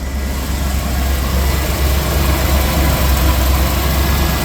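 The large engine of a 1992 Fleetwood motorhome on a Chevy P30 chassis idles steadily with a deep, constant rumble and vibration, close by and loud, with no voices.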